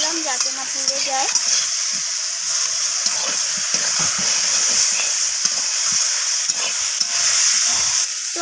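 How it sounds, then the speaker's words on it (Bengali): Spices with ground cumin stirred and fried in mustard oil with a splash of water, giving a steady close sizzle and hiss with repeated scraping stir strokes throughout. "মশলাগুলোকে একটু নাড়াচাড়া করে নিচ্ছি, একটু জল দিয়ে দিলাম যাতে না পুড়ে যায়"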